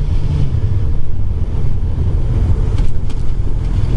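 Rider on a 2015 Suzuki GSX-R750 sport bike at speed, engine droning steadily under heavy rushing wind noise, with a brief dip in the drone where the gear changes.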